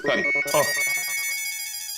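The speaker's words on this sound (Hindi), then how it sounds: "फिर से फोन" A phone ringtone plays a bright, tonal electronic melody, loud and close, with a voice briefly overlapping at the start.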